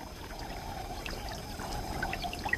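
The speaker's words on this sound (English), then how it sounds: "The water will slowly refill the dry channels and dusty lagoons." Water trickling and flowing steadily into dry channels and dusty lagoons on African plains, a soft continuous pouring murmur heard at moderate distance.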